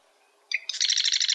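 A marsh wren sings a short mechanical song: a couple of brief high notes, then a rapid, accelerating buzzy rattle like a treadle sewing machine, clear and alone against a quiet background.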